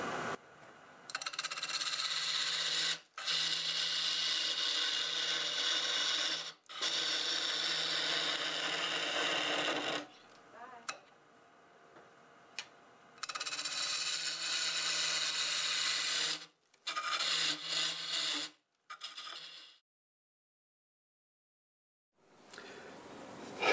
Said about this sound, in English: I do have a half-inch bowl gouge and about 990 RPM